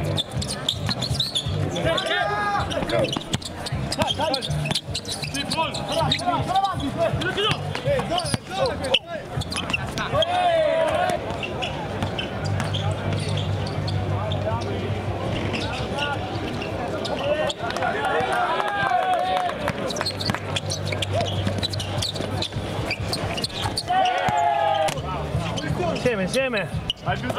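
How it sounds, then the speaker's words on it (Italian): Basketballs bounce repeatedly on a court during a wheelchair basketball exhibition, with irregular thuds under nearly constant talk and crowd chatter. "seguire una esibizione di basket in carrozzina con alcuni atleti ex atleti"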